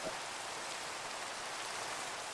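Steady, even rain hisses continuously in the Minecraft video game, a dense wash of falling drops with no breaks and no voices.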